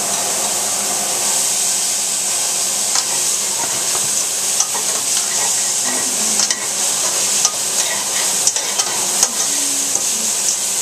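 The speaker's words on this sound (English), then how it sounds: "So I'm just gonna saute these onions." Onions sautéing in a pan for smothered chicken, a loud, continuous hissing sizzle with light scraping and stirring clicks scattered across it, close up and without talk.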